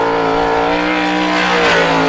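A supermodified race car's engine drones steadily and loudly at high revs on a short speedway oval during time trials, its harmonic whine holding nearly constant through the short stretch with no voices.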